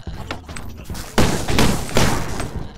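Several loud, sharp pistol shots burst out in quick succession in the video game Stick It to the Stickman, close and punchy, over a dense noisy background with no talking.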